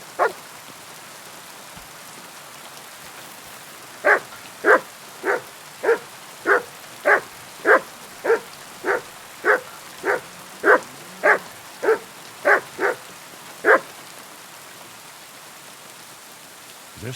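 A dog in Kingdom Come Deliverance II barks steadily in a long, evenly spaced series of about sixteen sharp, fairly loud woofs, set against a constant patter of rain, with no talking.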